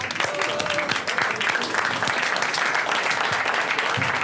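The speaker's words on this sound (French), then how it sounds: "on va s'applaudir un coup pour se féliciter" Applause from a theatre-forum audience and cast at the end of a performance: dense, steady clapping from many hands that fills the whole stretch at a fairly even level, with no talk above it.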